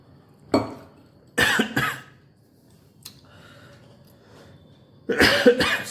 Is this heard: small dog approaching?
no